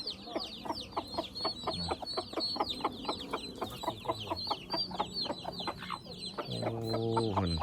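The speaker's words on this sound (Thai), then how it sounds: "ไก่เป็นลาย" A striped chicken clucks among other fowl, with a steady run of short clucks and chirps close by, ending in a louder, drawn-out squawk.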